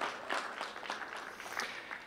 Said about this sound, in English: Yeah, some clapping